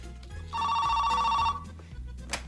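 Telephone rings indoors in one sustained, fairly loud electronic trill lasting about a second, over a faint low hum, with a short sharp sound just after.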